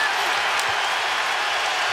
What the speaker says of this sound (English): Crowd applauding the physical play of Wallace